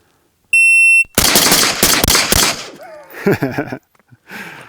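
Rapid gunfire from a Ruger Mini 14 shooting a Bill drill at 20 yards, set off by a shot-timer beep: a loud, fast string of about six close shots followed by brief, indistinct voices.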